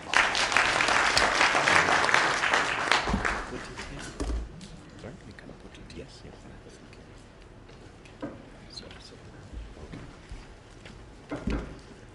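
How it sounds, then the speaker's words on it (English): An audience at a tea science symposium applauds in a burst of dense, loud clapping. It fades after about four seconds into scattered claps and quiet room noise. "Please clap for yourselves"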